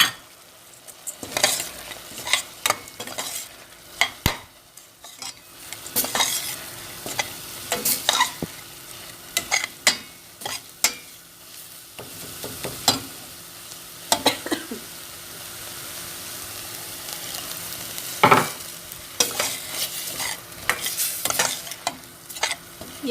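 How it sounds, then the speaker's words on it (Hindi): Tomato paste masala stir-fried in a pan for a chicken and oats dish, a continuous sizzle broken by frequent sharp spoon scrapes and knocks against the pan, close and irregular, with no talk. "अब हम फिर से इसको अच्छी तरह से भूनेंगे।"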